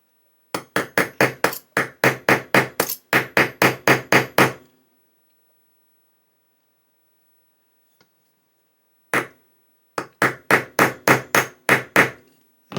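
Rapid metallic hammer taps on a tight-fitting part of a 1:6 scale Mustang GT500 model kit, in quick bursts of sharp strikes, a long pause, then another steady run of close, loud taps.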